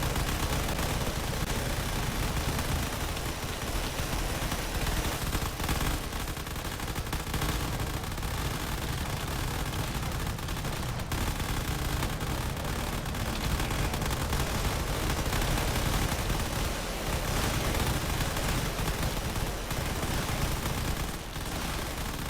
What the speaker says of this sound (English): There's a lot of cannon fire being exchanged down there trying to take out some of the other ships.